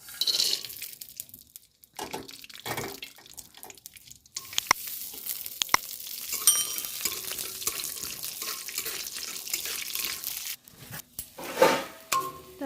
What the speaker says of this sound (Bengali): এবার কটা বাদাম ভেজে নেবো